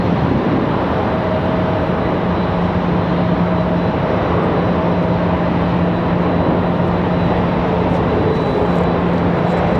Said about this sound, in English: Another nice smooth touchdown.